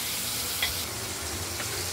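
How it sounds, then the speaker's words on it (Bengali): Boal fish frying in a pan for a potato and prawn curry, a soft continuous sizzle close by with one brief clink, no voices. "মাছগুলো ভাজা চলছে"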